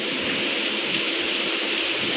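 Heavy rain pours down steadily, a dense continuous hiss of drops drumming on surfaces with no pauses and no voices.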